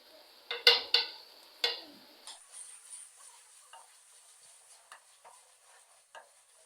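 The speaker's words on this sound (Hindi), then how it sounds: "मसालों को हम इतना फ्राई करेंगे जब तक ऑयल ऊपर ना आ जाए" Spices fry in oil in a pan for aloo chicken; a few sharp spoon clinks come first, then a quiet, steady sizzle with light taps from stirring.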